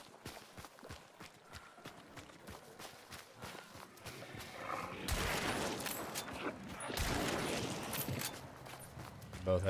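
Gunshots in a shooter video game: a quick run of sharp cracks early on, then louder blasts with noisy bursts around the middle, mixed with footsteps and game sounds under a talking voice.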